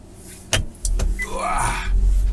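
A truck drives close by, with a couple of sharp knocks followed by a rising, whining engine sweep that grows louder and stays near.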